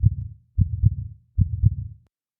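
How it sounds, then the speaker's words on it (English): A heartbeat sound effect with three deep, muffled double thumps in an even rhythm, loud and close, with brief silence between beats. "wants to listen to his heartbeat."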